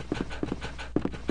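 A dog in Resident Evil Director's Cut panting and snarling in quick paired bursts, rhythmic and close, repeating about five times over a second and a half with no speech.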